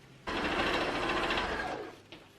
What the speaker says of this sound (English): So now you've stitched all that top edge